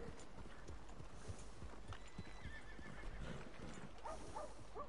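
Horses in the Red Dead Online video game whinny and clip-clop, with steady hoofbeats running under a quiet ambient bed and a couple of neighs standing out.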